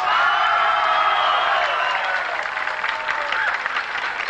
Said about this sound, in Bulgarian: Радостта и овациите са неописуеми